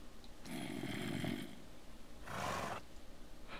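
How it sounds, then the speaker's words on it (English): A baby zombie in Minecraft makes two short, rough, growling bursts separated by a pause, fairly close and with no talking. "That sounds like a baby zombie."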